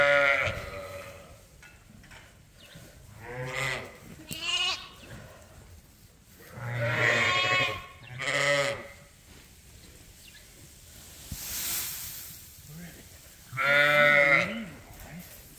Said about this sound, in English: Little ewe lamb.